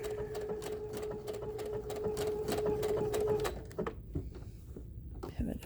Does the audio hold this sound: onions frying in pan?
no